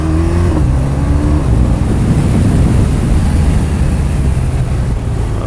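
A BMW R1200RT motorcycle engine drones steadily while riding, under heavy rushing wind noise, with a low constant rumble and a brief rising tone near the start.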